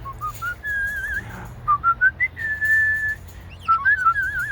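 A bird whistles a series of clear, rising and falling notes, some sustained and some in short bursts, close and fairly loud.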